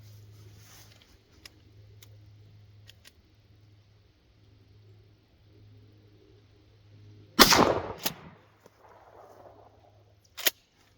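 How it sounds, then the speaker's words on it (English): A single loud blast from a Mossberg 590 shotgun firing Federal Flight Control 12 gauge double-aught buck at a 25-yard range booms over a quiet hum and fades into a rolling echo, followed later by a sharp mechanical click. "still, of course, going to be shooting Federal Flight Control 12 gauge double-aught buck"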